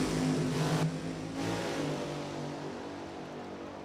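Drag racing cars roar down the strip at an NHRA Division 1 event at Lebanon Valley Dragway, a loud sustained engine blast that peaks early then holds steady as the cars run away.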